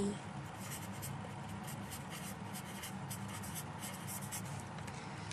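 Chalk or marker writing on a classroom board during a Thai earth science lesson, soft continuous scratchy strokes under a quiet room tone, with light rubbing texture.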